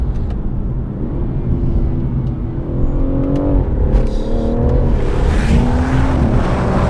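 A BMW M140i accelerates hard on an open road, its engine rising through the revs with a gear change, loud and close from inside the cabin with a deep rumbling undertone.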